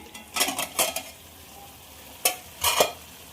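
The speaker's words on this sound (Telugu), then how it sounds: "ఒక ఐదు నిమిషాలు ఇట్లా వేయించేసుకున్నామంటే పచ్చివాసన అంతా వెళ్ళిపోతుంది" Masala being fried and stirred in a pan for a Rayalaseema-style chicken sharwa, heard as a few separate bursts of scraping and sizzling with quiet gaps between them.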